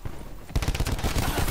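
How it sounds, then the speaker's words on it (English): Rapid automatic fire from the Morgue gun in Black Ops 4 bursts in loud and close after a quiet half-second lead-in, with dense repeated shots continuing to the end. "This morgue is my favorite gun at this point. I'm going off in it."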